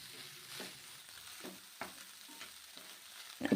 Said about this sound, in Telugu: ఇలా వేసుకొని ఒక 3-4 నిమిషాల పాటు హై ఫ్లేమ్ మీదే రైస్ని ఫ్రై చేసుకోవాలి